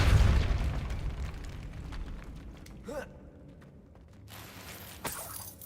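A Depulso spell blast from the Hogwarts Legacy video game lands as a short booming burst against steady game ambience, followed by a second sharp blast near the end.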